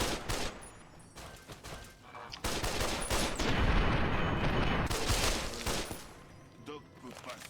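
Bursts of gunfire and booming impacts in the video game Fallout New Vegas, irregular and fairly loud, with a voice speaking at moments in between.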